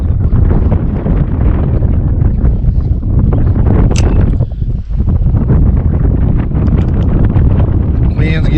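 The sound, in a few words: wind blowing over a lake while fishing from a boat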